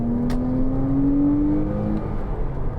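A 2011 Porsche Cayman 987 with a 2.9 engine revs up loud and close, its pitch rising smoothly for about a second and a half and then holding a steady, throaty drone.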